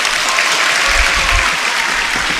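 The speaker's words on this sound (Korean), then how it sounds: "다시 한번 박수로!" Audience at a church music event gives steady, dense applause, a loud, continuous roar of many hands clapping close by with no talk over it.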